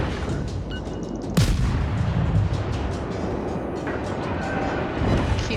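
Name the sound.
naval artillery gunfire in World of Warships video game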